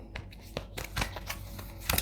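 Tarot cards handled during a reading, with a run of crisp papery flicks and slides that come in irregular bursts, close up and fairly quiet.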